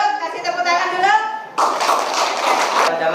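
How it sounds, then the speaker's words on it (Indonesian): Classroom of high school students clapping in a group, a burst of dense applause that follows someone speaking and then stops abruptly. "kasih tepuk tangan dulu"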